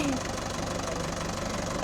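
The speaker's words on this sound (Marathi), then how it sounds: "आणि आता आमच्या ट्रॅक्टर ट्रॅक्टरमध्ये बसत आहे" A tractor engine idles with a steady low, pulsing chug and rhythmic knocking throbs, loud and close, running alone without clear talk.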